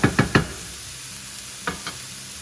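Mushrooms go into a hot pan: three quick clattering thumps close together, then a soft, steady background sizzle with two fainter knocks later. No one speaks.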